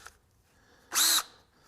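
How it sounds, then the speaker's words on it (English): Power drill working on a John Deere 401C engine cylinder liner, a single brief whirring burst of the motor about a third of a second long, close and loud against near silence. "Gotta turn up my drill a little bit here."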